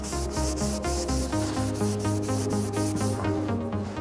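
A Scotch-Brite pad rubs back and forth along the grain of a Bristol sink's metal surface, a steady close scrubbing rasp with regular strokes and no voices.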